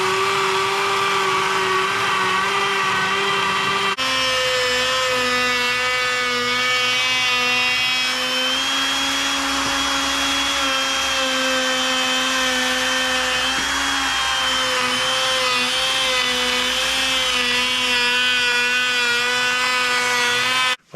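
A router cuts a 13-inch circle in a workpiece for a DIY e-bike railroad cart, the steady high-pitched whine holding close and loud for about twenty seconds after it starts, with no talking.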